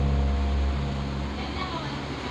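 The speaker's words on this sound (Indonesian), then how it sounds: "maaf kalau suara agak gerumuh soalnya hujan" Rain produces a steady, fairly loud rumbling wash of noise with a low hum beneath it, continuous through the clip and easing slightly partway.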